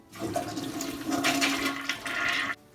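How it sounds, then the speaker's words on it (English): A toilet flushes with a loud rushing gush of water that swirls for a couple of seconds, then cuts off abruptly into quiet. "Flush it once to get rid of as much water as we can."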